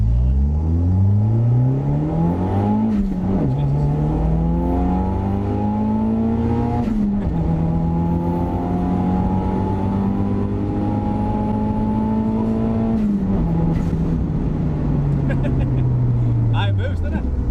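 Rally-spec Toyota Celica GT-Four accelerating from a rolling start, engine pitch climbing in repeated sweeps through gear changes, loud and close from inside the car, with occupants talking over it.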